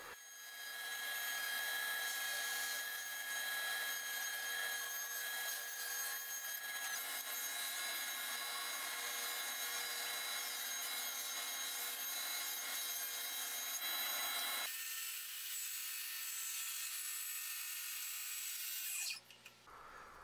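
Drum sander working over wooden cabinet panels in a home shop, a steady, loud broadband grinding hum with a sustained tonal whine that shifts slightly partway through, then stops abruptly near the end.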